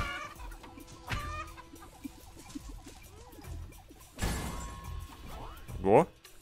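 Cartoonish chicken clucks from round birds in the video game Bang-On Balls: Chronicles, a few short squawks scattered amid game music and effects, with a louder burst near the end.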